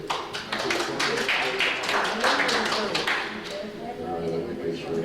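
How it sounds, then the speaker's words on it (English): Applause from a senior comedy show audience, a crowd clapping steadily and fairly loudly throughout while someone speaks over it. "Give yourselves a round of applause for being here."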